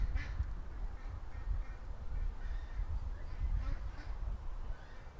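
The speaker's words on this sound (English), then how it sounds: "It's constant duck quacking" Ducks quack near a creek, a faint, steady scatter of calls over a low rumbling outdoor background, with no voices.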